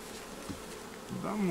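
Honeybees buzz steadily around a queen during hive work in the taiga, a close, continuous insect drone that rises slightly near the end.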